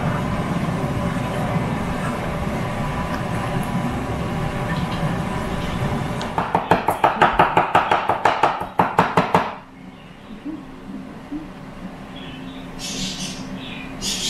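A knife chops a jalapeno finely on a board in a quick run of about a dozen sharp, evenly spaced taps, close and loud. A steady low kitchen hum plays under it, and the chopping stops abruptly before the room goes quieter.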